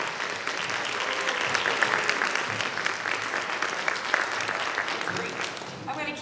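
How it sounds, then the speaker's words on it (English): Crowd applause for the Lieutenant Governor at a behavioral health equity conference, sustained dense clapping at an even level with cheering voices mixed in, fading near the end. "please stand and give her a round of applause"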